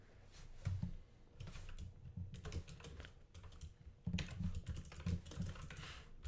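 Rapid typing on a computer keyboard while code is entered, quiet and close, with bursts of clustered keystrokes broken by short pauses. No one speaks.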